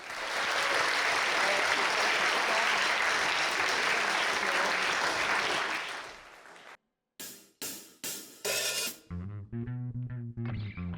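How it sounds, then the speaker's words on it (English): Loud, dense audience applause at a battle of the bands fills the first six seconds and then fades out. A short burst of drums and guitar from the next band follows. "please can we have a massive round of applause"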